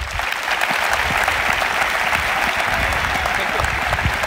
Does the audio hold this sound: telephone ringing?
no